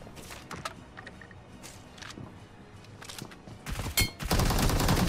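PUBG gunfire: scattered single shots early, then dense, loud bursts of rapid automatic fire building toward the end.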